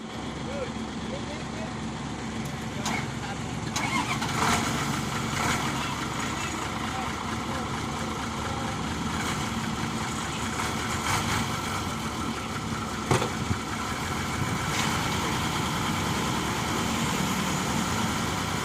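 An old car engine turns over and settles into a rough, steady idle, running continuously at moderate volume with a few sharp clanks over the top, while people talk nearby.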